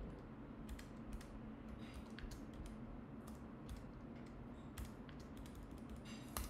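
Typing on a computer keyboard during a programming lesson, a quiet irregular run of soft key clicks with occasional louder taps over a low room hum, close by and with no talk.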